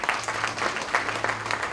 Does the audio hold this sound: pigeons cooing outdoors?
no